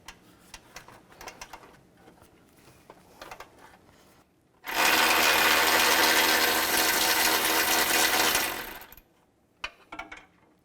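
A 16mm socket tool removes engine mount bracket bolts on a 2011-2019 Dodge Grand Caravan: after quiet clicks and handling noises, a loud, close, continuous rattling whir runs for about four seconds, then stops abruptly.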